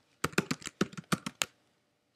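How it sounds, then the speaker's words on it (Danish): Keys tapped on a computer keyboard while a username and password are entered at a login screen: a quick burst of about eight close, crisp clicks over roughly a second, then quiet. "Ups, skal jeg taste rigtige brugernavn."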